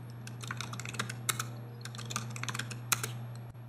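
Fingers type on a computer keyboard in a quick, uneven run of close, crisp key clicks, with a few louder taps, over a steady low hum and no talking.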